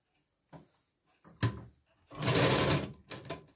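Sewing machine stitching a katori blouse, heard in short separate bursts of motor whir and needle clatter, the longest run lasting under a second, close and fairly loud with quiet gaps between.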